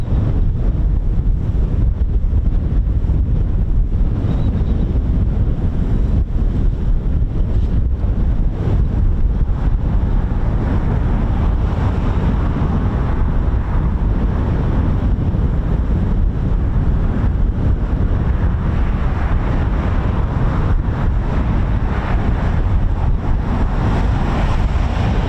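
Strong wind buffets the microphone at an airfield, a loud continuous low rumble with gusting roar that persists for the whole stretch, no voices heard.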